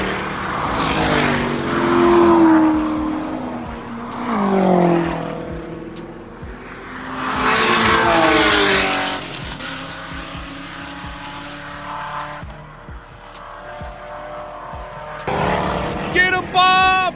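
Race cars, including a Porsche GT3, howl around a track-day circuit: engines rise and fall in repeated loud, rising revving sweeps as cars pass close, with a sharp higher-pitched burst at the end.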